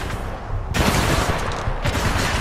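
Heavy incoming enemy gunfire in Titanfall 2 erupts as loud, dense bursts of rapid shots and a broad roaring wash of fire, close and continuous for a couple of seconds.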